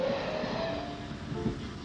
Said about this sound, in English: This scene is a cab ride of an imaginary branch line, passing another train in a station and yet another train on the level crossing beyond it.